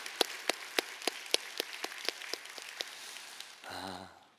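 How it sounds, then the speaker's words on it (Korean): Members of a church congregation clap during a worship service, a sparse, fairly faint run of distinct single claps at an uneven pace, ending in a short tonal sound. "우리 모두에게 한번 큰 박수로 한번 격려했으면 좋겠습니다"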